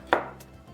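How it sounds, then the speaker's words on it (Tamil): A knife makes a single sharp, crisp chop through a raw mango on a cutting board, a brief close-up knock followed by quiet. "மாங்காய் பெருசாக இருந்தால் இந்த மாதிரி கட் பண்ணி எடுத்துக்கோங்க"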